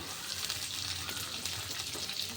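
Raw yardlong beans hit a pan of reddish-fried onion and garlic, giving a soft, steady sizzle and crackle close by at low volume, with no speech.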